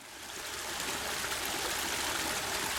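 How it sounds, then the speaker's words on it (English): River water flowing in a steady, broad rush that swells up over the first second, holds at an even level, and then cuts off abruptly at the end. "I am a river."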